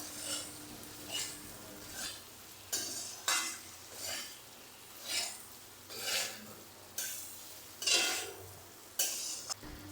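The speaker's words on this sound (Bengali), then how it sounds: "আর হলুদ দিয়ে আবারও একটু ভেজে নিচ্ছি।" Spices fry with turmeric in a pan, a spoon scraping and stirring in regular strokes roughly every second over a soft, steady sizzle.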